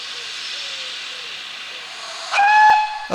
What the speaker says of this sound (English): A pop of the engine's whistle indicates the departure of 2857 towards Arley